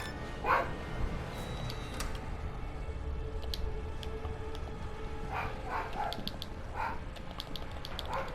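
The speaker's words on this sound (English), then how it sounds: "Sorry if you guys can hear that dog in the background." A pet dog barks in the background while a Resident Evil 3 game plays, the barks coming in scattered, moderately faint bursts that rise above a steady low hum and some clicking.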